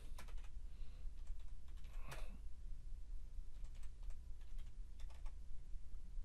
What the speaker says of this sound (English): just as I type this now